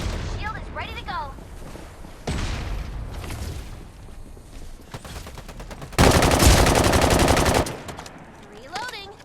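A shotgun fires in a shooter video game, several loud booming blasts spaced a second or two apart, with one longer sustained burst of gunfire mid-clip, mixed with game effects and announcer voice lines.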